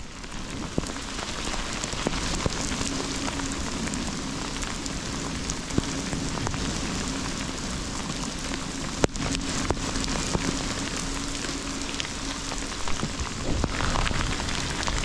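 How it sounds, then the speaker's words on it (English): Heavy rain pours down in a dense, constant hiss, close and loud, with occasional sharper drops striking a surface. "It started raining like crazy."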